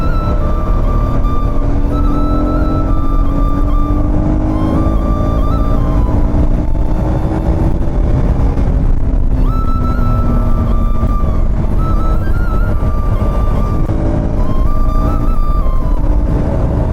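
KTM Duke 250 gen3 motorcycle in track mode, its engine droning steadily around 3000 RPM with rising and falling pitch under heavy wind buffeting while riding, loud and continuous throughout.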